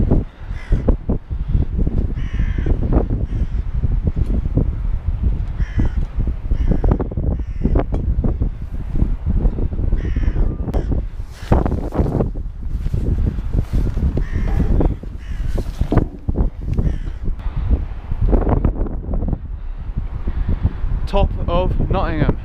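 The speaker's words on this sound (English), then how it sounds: "Hello, Mr. Crow." A crow caws repeatedly in harsh, irregular calls outdoors high above Nottingham, heard over heavy buffeting wind on the microphone, with a voice briefly audible at times.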